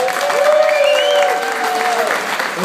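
Sustained applause from an audience at a Dutch-language event, with a high whistle-like tone sliding over the clapping for a couple of seconds.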